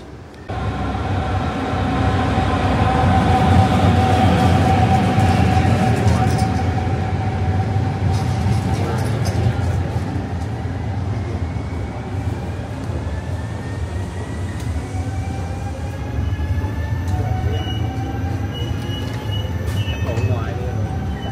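A train pulls into an airport railway station platform in the Netherlands, a loud, close rumble and rail hiss that slowly fades as it slows, with squealing brake tones rising near the end.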